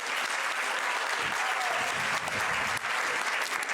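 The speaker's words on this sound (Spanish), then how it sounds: "Aplausos" Audience applause at a public policy forum on sustainable development goals, a loud, dense, continuous clapping from a sizable crowd, close and steady throughout.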